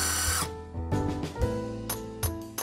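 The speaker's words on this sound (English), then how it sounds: "We can make marks on the concrete where we can drill our pilot holes." Power drill boring pilot holes into a concrete step for handrail anchor bolts, a steady grinding whine that starts loud and then continues in short repeated bursts with brief pauses between them.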